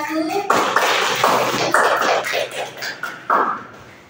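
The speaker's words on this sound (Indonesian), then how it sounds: "tepuk tangan buat kelompok 1" A classroom group gives a short burst of applause for group 1, scattered claps and taps sounding close and uneven over about four seconds, with a few voices mixed in.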